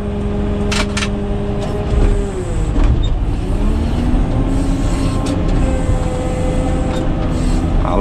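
A Caterpillar 120K motor grader reverses while cutting soil, its diesel engine droning steadily and shifting pitch, with faint mechanical clicks and hydraulic whines over a constant rumble.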